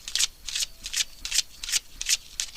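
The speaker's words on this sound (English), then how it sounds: "I'm going to shuffle one more time." Tarot cards being shuffled by hand in about seven rhythmic riffling bursts, close and crisp, with brief pauses between each pass and no speech.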